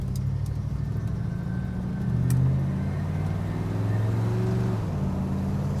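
A 1968 Chevrolet El Camino SS 396 with a Turbo 400 transmission rumbles steadily through its dual exhaust while cruising, a deep, even low drone that swells slightly twice, with no talking.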